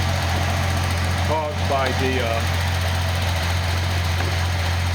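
A Nissan L28ET turbo engine idles after a misfire repair, giving a steady low hum under a man's brief speech.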